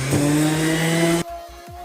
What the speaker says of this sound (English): Now we're on to the orbital sander